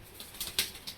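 A pigeon's wings flap in a quick burst as it takes off, a few soft close whooshes alone in quiet surroundings.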